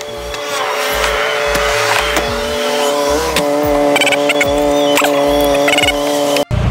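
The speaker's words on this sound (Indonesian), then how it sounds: "Bisa kalian dengar langsung nanti suaranya seperti apa ketika mobil ini lagi berjalan" A Mitsubishi Eterna fitted with an aftermarket Alva Garage exhaust drives past loud and close, its engine note rising and dropping through repeated revs and gear changes.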